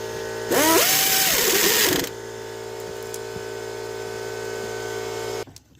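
On a 2004 Ford Expedition, alternator mounting bolts are tightened, probably with a power tool: a loud, close mechanical whir for about one and a half seconds, then a steady low hum with faint ticks.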